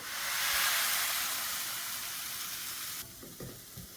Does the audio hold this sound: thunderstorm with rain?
no